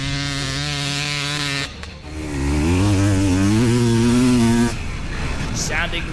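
A Panther dirt bike ridden around a lap, its engine a loud, close drone that rises and falls with the revs, dipping briefly before climbing again.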